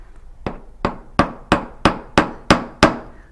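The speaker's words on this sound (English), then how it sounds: "I could maybe hammer this flat." Eight sharp hammer blows strike a piece of oxidized silver metal to flatten it, evenly spaced and getting slightly louder, each with a bright ringing decay.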